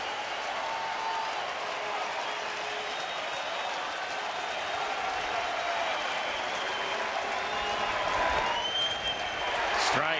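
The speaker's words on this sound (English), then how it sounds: "the crowd is fired up about the possibility of a sweep again and a perfect homestand" A baseball stadium crowd at a Seattle at Texas game, cheering and applauding in a dense, continuous roar that swells slightly toward the end, with a commentator speaking over it.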